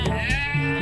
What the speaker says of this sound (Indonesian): Ada domba di sini bosku.